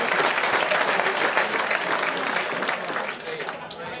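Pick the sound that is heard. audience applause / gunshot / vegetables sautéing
audience applause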